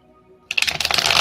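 Tarot cards being shuffled by hand, a sudden burst of dense crisp riffling and flicking that starts after a short quiet pause and keeps going steadily, close and fairly loud.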